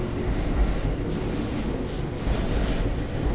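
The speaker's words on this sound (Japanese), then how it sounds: "列車到着です。" Steady low rumble of a seven-car limited express train rolling into a platform at Ueno Station, a continuous heavy drone with faint mechanical rattle and no voices.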